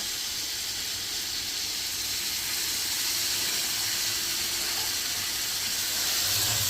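Kasuri methi and chopped coriander leaves sizzle in hot butter, a steady loud hiss and crackle of frying that holds evenly throughout with no voice over it.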